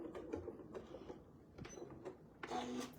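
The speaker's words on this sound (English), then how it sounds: "I'm just going to stitch a few micro stitches right down the line" A sewing machine lays down a few tiny micro stitches along a seam line on a quilt block, short mechanical bursts of whirring in a quiet room, with a louder run near the end.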